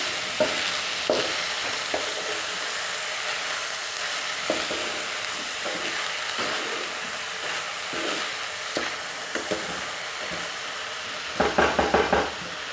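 Sweet rice with sugar and tutti frutti being stirred in a pan for zarda pulao, with soft scraping strokes over a steady low sizzle and a few louder clinks near the end.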